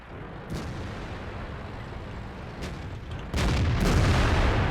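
Tank cannon fire in World of Tanks from an IS-3, a few deep booms over a low rumbling battle background, with a louder, heavier blast near the end.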